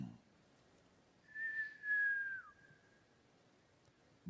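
A single voice imitates the whistle of a falling bomb: one sustained whistled tone, about a second long, that slides gradually downward and then cuts off, heard alone against a quiet background.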